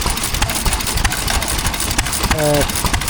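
An Amanco 2.5 horsepower stationary engine runs at an outdoor steam and craft fair, a steady mechanical chugging with busy background noise and a brief tonal sound near the end.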